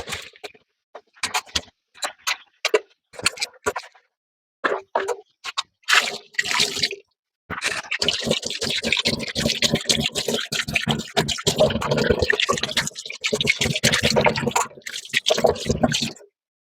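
Kitchen sink being cleaned with running water, first broken splashes and drips in short bursts, then a continuous close stream of water with scrubbing, clear and fairly loud.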